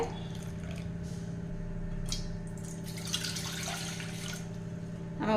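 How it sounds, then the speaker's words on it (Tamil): Water poured from a cup into flour for oil-free chapati dough in a home kitchen, a steady faint trickle and drip running throughout beneath a constant low hum, with a brief louder splash near the end. "இப்போ நம்ம மாவு எடுத்து அதே கப்பில் வந்து ஒரு ஒன்றே கால் கப் தண்ணி சேர்த்திக்கலாங்க"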